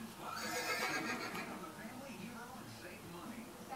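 A horse in Assassin's Creed Brotherhood gives a loud whinny early on, followed by hoof clip-clop and game noise, with someone talking in the mix.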